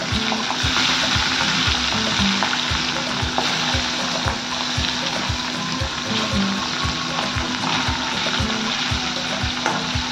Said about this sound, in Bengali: এবার মাছগুলোকে আমি একটু ভেজে নেব